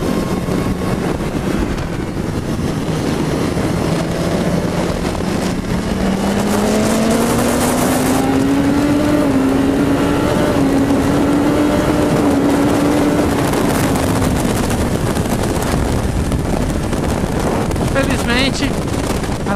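A BMW S1000RR sport motorcycle engine, set to cut at 8,000 rpm, revs up in a long rising wail, holds near the limiter with a stuttering edge, then drops away, loud and close, with someone talking at the start.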